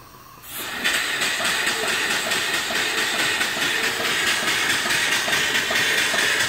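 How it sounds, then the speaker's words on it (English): A small steam engine fed from a boiler opens up on steam. After a brief quieter moment comes a sudden loud, continuous hiss with a faint rapid rhythmic chuffing running underneath, close by and steady. "Just bring it to the top dead center and turn on the steam."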